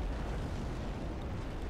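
A ship blows up in the naval battle game Ultimate Admiral: Age of Sail, a dense, sustained rumbling roar of blast noise that fills the short stretch with steady low boom and no talk over it.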